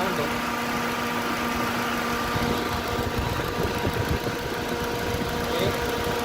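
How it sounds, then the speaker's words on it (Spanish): A 2003 Neon's electric radiator cooling fan whirs steadily while the engine idles with a low, even mechanical hum, both continuous and close throughout. "Pero si nuestro ventilador está funcionando."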